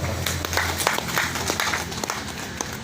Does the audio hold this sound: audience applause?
yes